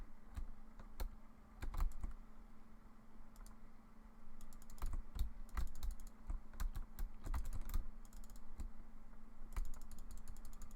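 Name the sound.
typing on a computer keyboard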